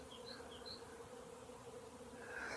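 A faint, steady hum of a honeybee swarm buzzing together as it settles after leaving the hive, continuous and somewhat distant, with no voices.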